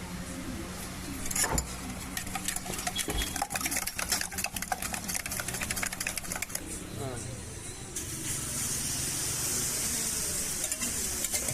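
Beaten egg salted and whisked for a chayote squash egg kalakki, with quick rhythmic stirring clicks, then a steady hiss of sizzling as the egg hits the hot pan, under a speaking voice.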